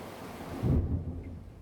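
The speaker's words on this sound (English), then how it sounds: "You hear the thunder?" Thunder rolls through a storm as a low, heavy rumble that swells and then slowly fades, with a faint hiss of rain or wind behind it.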